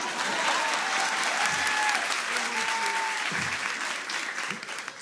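A comedy roast audience claps and cheers in a dense, steady burst of applause, with a voice talking over it now and then as it begins to thin out.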